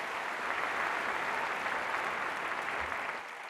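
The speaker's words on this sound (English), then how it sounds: "Give yourselves another round of applause." Crowd applause at a welcome rally at Notre Dame, steady and full-bodied clapping from many people that holds evenly for several seconds before dropping off sharply near the end.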